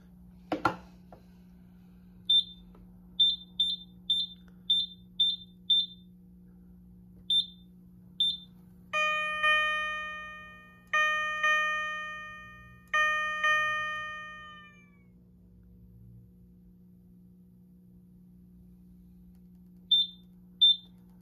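A Simplex 4100U fire alarm system sounds during a heat detector test: repeated short high electronic beeps in quick groups, then several longer chiming horn tones that ring out and decay, with silence between bursts.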